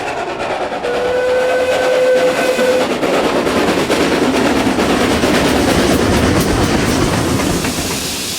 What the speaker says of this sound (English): steam trains had travelled again on a short section of the old line